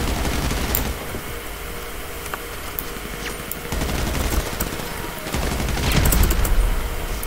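Sustained automatic gunfire from a player's weapon in a PvP shooter hammers away loud and close, in dense bursts with brief lulls, mixed with distant bangs from the match.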